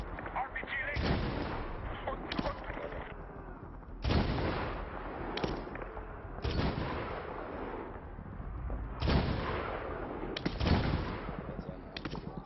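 Heavy gunfire and explosive blasts in a Medal of Honor war game firefight, with repeated loud bursts and booms every second or two over a constant battle din, as soldiers shout orders throughout.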